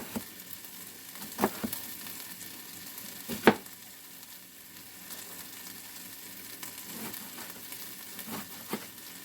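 Chopped onion frying in a pot with pork seasoning for a traditional Appalachian New Year's meal, giving a steady close sizzle broken by a few sharp clacks and stirring knocks.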